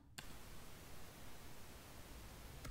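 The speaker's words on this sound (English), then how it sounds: "And we can contrast that with pink noise," Pink noise from a synthesizer, a continuous, even rush that sounds darker and softer than white noise, starting abruptly after a brief silence and holding steady.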